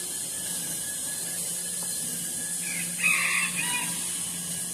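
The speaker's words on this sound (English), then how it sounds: "My rooster is going crazy." A rooster crows once, faint and distant, for about a second near the end, over a steady background hiss.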